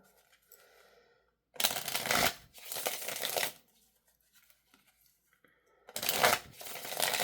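Crisp riffling of playing cards in three quick bursts, close up, separated by near-silent pauses.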